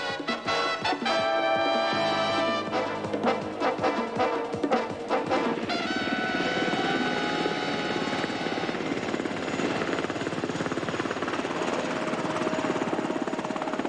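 Black Hawk military helicopters flying, their rotor thrum and engine whine sustained and fairly loud, mixed with tonal, music-like layers throughout, no speech.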